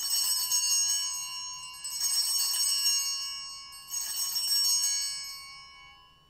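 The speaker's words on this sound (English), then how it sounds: "the altar server will ring the bells three times" Altar bells ring three times at the raising of the chalice during a church Mass, three bright shimmering jingles of clustered bells, each ringing out and fading before the next, with no talking.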